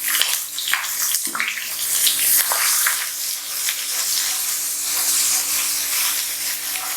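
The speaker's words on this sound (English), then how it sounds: "Let it all fry in the oil." Cumin and ginger paste frying in hot oil, a steady loud sizzle and crackle running continuously throughout with bright hissing spatter, no voices.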